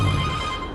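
A phone ringtone chimes out, a steady electronic tone sounding loud and close for a brief moment with no voices.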